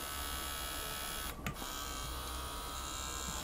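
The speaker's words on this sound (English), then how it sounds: "This motor is very fast, more than 3000 rotations per minute on 9 volts." A small LEGO 9V electric motor spins fast at over 3000 rpm, giving a steady, fairly quiet high-pitched buzzing whine that is broken only by a brief dip partway through.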